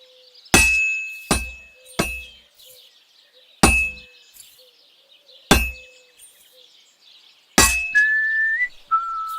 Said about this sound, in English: Now take the hammer and try hitting it a few times.